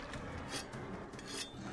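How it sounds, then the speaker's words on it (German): Whetstone rasping along a weapon blade during a monster-hunting video game, a steady, close scraping grind repeated in short strokes with no talk over it. "Waffe schärfen."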